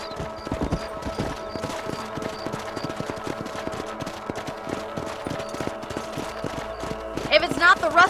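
Horse hooves clip-clop at a steady trotting rhythm in the Red Dead Redemption video game, a continuous close beat of hoof strikes under game ambience, with a brief burst of sharper noises near the end.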